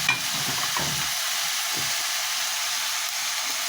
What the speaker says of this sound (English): And then I'm going to tip in the rice.